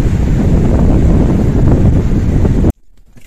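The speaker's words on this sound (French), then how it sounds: "Franchement, il y a énormément de vent" Strong wind blows at a beach near St Tropez, a loud continuous roar of buffeting gusts against the microphone that cuts off abruptly near the end, leaving near silence.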